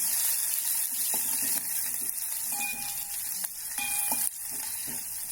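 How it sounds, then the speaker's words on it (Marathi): Cinnamon pieces and a clove fried in a pan for buttermilk kadhi, with ingredients stirred through the hot oil as a steady sizzle broken by a few scrapes and light clinks. "त्यानंतर टाकूया दालचिनीचे तुकडे 2, लवंग 1, छान परतून घेऊया।"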